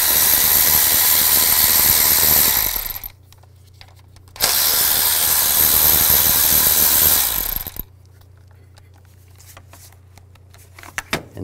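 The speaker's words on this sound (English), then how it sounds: "Use a 10 millimeter socket, take these two bolts out." A power ratchet with a 10 mm socket spins bracket bolts out on a 2005–2015 Nissan Xterra engine, two loud whirring bursts of a few seconds each, separated by quiet pauses.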